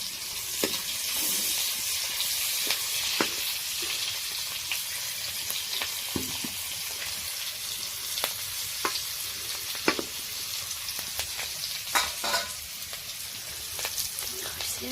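Cumin and black pepper paste frying in a pan sizzles with a steady hiss and sharp pops and crackles at irregular intervals. The sound is close and fairly quiet, with a few soft voices in the background.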